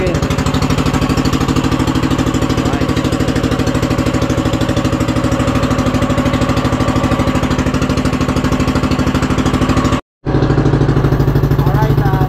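A boat engine runs steadily at close range on a fishing trip out to sea in fog, with a loud, even mechanical chug that drops out briefly near the end before resuming.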